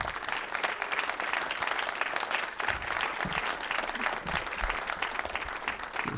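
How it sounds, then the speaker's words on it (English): A comedy-show crowd applauds the comedian's friends in the house, dense clapping loud and sustained throughout, with faint voices mixed into the noise. "please give a round of applause for them"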